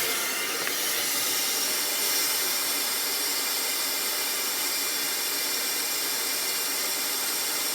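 Steady, loud broadband hiss and whine of a vacuum pump evacuating a car's AC system, continuous and unchanging throughout with no talk.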